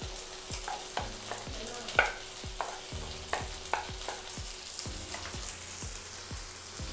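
Gochujang alfredo pasta is stirred in a pan over low heat, with a soft bubbling sizzle under repeated rhythmic scrapes and taps of a spoon against the metal, close and fairly quiet.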